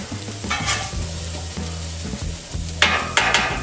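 Chopped brisket tossed on a 36-inch Blackstone griddle sizzles steadily while a spatula scrapes and clacks in bursts, the metallic strikes growing louder toward the end, with no one speaking.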